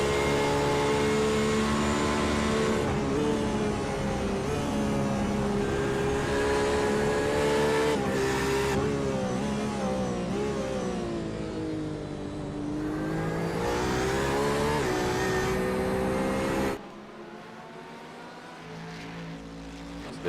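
Sports sedan race car at Phillip Island circuit, engine howling loud with rising and falling revs through gear changes, then cutting away abruptly near the end leaving quieter background.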